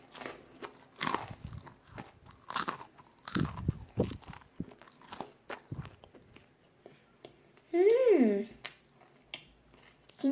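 Crunchy homemade garlic baguette being bitten and chewed up close, a series of crisp crunching bites spaced through the stretch, with a short vocal sound near the end.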